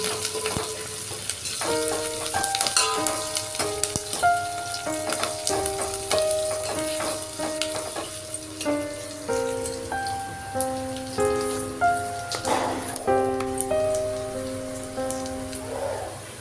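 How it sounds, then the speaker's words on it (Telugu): Green chillies and curry leaves frying in oil in a pan for tamarind pulusu, a constant crackling sizzle with scattered pops, while light tonal music plays throughout. "అవన్నీ వేసుకొని మంచిగా కలుపుకొని బాగా వేగనివ్వాలి"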